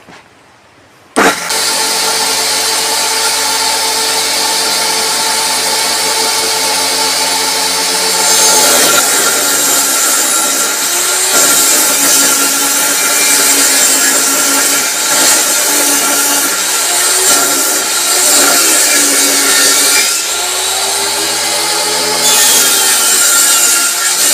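A table-mounted cutter machine saws through wood, its loud, steady whine starting abruptly after a brief quiet and holding for the rest of the clip, with the pitch dipping and rising as the blade works through the cut.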